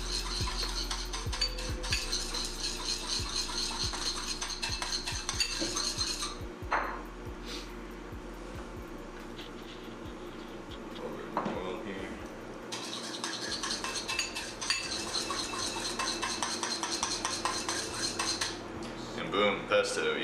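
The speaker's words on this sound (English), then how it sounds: "just scrape a ton in there. Mix it up with whatever you want to." A utensil scrapes and clinks against a bowl while pesto is stirred together for a pizza, steady repeated scraping and tapping up close, with brief pauses midway and no talking.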